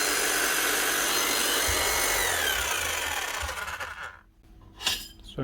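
A nearly new Bosch GSH 5CE demolition hammer, just repaired after a faulty seal leaked grease, runs with a loud, steady broadband motor roar for about four seconds, then winds down and briefly restarts.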